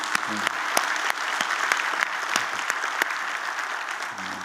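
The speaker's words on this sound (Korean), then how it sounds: "우리 하나님께 우리 감사의 박수 올려드립시다." A congregation at a diaspora mission conference breaks into applause, a lively mix of many hands with sharp individual claps popping out and scattered voices beneath, fairly close and sustained.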